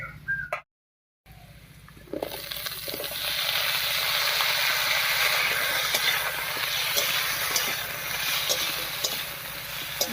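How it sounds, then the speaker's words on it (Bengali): Potatoes and eggplant frying together in a pan give a steady, dense sizzle that starts after a short silence and continues loudly throughout, with faint scraping from stirring. "বেগুন দিয়ে আলুর সঙ্গে একটু মিশিয়ে নিয়েছি"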